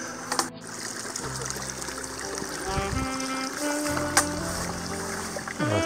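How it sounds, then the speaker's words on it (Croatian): A mountain stream flows steadily along a hiking trail near Rijeka toward Crni vrh, its continuous wash and trickle running throughout with a few brief knocks and a tonal background underneath. "Evo tu, potok."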